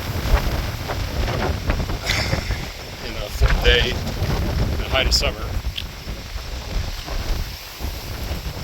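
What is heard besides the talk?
wind blowing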